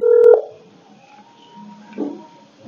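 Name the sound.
telephone dialing tones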